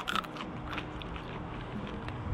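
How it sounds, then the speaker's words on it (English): A quick crunchy bite into a fresh homegrown garden pepper, a short sharp crunch at the start followed by faint chewing, close and quiet with no talk. "I'll take a bite."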